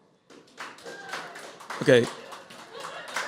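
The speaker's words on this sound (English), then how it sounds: "No, like clap if you're Asian." Scattered audience clapping at a stand-up comedy show, a brief burst of a few claps rising near the middle, with the comedian talking over it.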